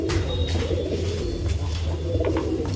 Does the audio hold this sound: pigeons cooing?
yes